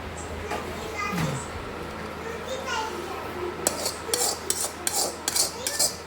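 Cooled spice masala is stirred into homemade raw mango pickle, giving gritty scraping and rubbing with sharp clinks of a utensil against the vessel toward the end, while someone talks over it throughout.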